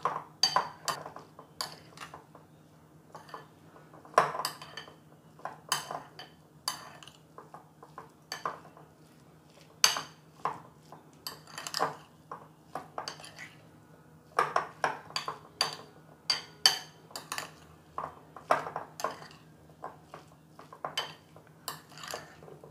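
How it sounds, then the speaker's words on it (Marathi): A spoon mixes butter, cheese and chilli spread in a bowl, making irregular clinks and scrapes against the dish in short bursts with quiet gaps between them. "आता हे आपण सगळं मिक्स करून घेणार आहोत."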